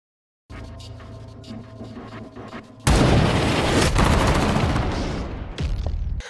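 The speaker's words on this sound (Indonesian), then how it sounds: "Namun justru karena tembakan itulah membuat Yuki jadi ketahuan" Sustained bursts of film sniper gunfire and booming shots erupt loudly after a quieter stretch, with a rumbling, chaotic texture continuing to the end.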